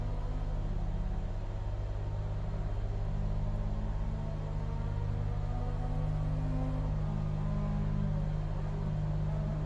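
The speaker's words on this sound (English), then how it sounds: "I can hear a car driving." A racing car in Assetto Corsa Evo drives steadily with a continuous low engine rumble and drone, fairly loud and with no talk over it.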